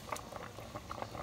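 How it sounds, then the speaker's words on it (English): Ears of corn, husked, bubbling in a pot of boiling water, with a steady rolling boil and scattered pops and patters across a short stretch. "and then put in a boiling water"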